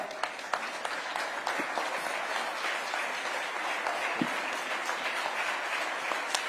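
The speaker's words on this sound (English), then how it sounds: "A huge round of applause, please." An audience at a live awards ceremony gives a standing ovation, dense sustained clapping filling the hall at an even level throughout.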